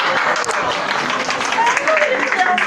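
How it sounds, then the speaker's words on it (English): An audience claps in a busy, lively burst at a live session, the applause mixed with overlapping voices and cheers. "Can I get a clap?"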